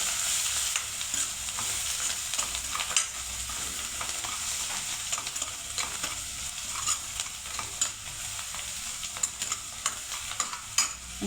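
Turmeric, chili powder and coriander being stirred in a hot cooking pan, a steady scraping and soft sizzling that runs close and continuous with no voices.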